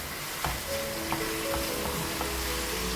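Minced beef keema sizzling in a hot pan while being stirred and mixed, a steady loud fry hiss with soft scraping strokes of the spoon every half second or so.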